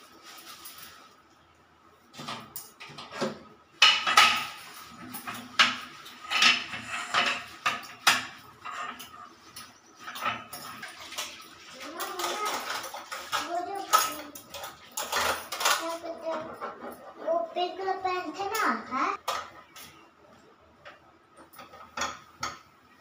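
Dishes are washed in a home kitchen on a hot morning: steel utensils and plates clatter and clink in close, irregular bursts, busier in the middle stretch.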